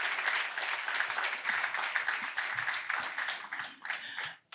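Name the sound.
audience applauding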